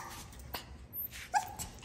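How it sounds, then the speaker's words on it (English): A small chocolate-and-white Yorkipoo dog gives a couple of short, close whimpering yips with a soft bark-like note, fairly faint, with no talk. "So that is little Yuri the Yorkie Poo."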